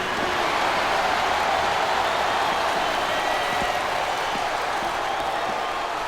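Capacity wrestling arena crowd in WWE SmackDown vs. RAW 2007 during an Undertaker versus Sabu Hell in a Cell match: a continuous, steady roar of cheering, with commentators talking over it.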